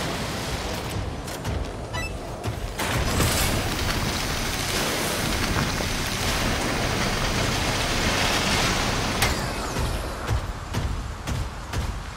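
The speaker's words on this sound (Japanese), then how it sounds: "小雨ですねこの雨量なら問題ありません" Light rain in the game SYNDUALITY Echo of Ada, a continuous hiss of pattering drops with scattered sharper taps, steady and fairly loud, with no talking.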